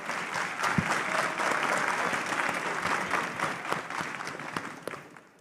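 Steady, dense applause from a large audience fills a hall at a national cattle ranchers' congress panel on rural security, with continuous clapping and no speech over it.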